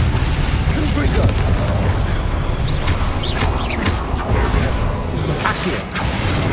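Hogwarts Legacy spell effects for Glacius and Confringo cast in quick succession, a dense roaring mix of crackling bursts, booms and whooshing streaks, loud and continuous beneath shouted incantations.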